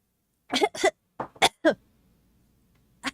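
A few dry coughs from lingering illness in quick succession, close and fairly loud, followed by a pause and one more short cough.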